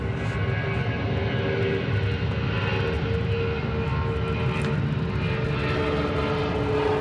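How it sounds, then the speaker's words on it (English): An MD-11 airliner approaching Atlanta Hartsfield-Jackson airport roars with a steady, loud, broadband engine rumble that holds throughout, with no talk over it. "let me get out of the way, the MD-11's coming"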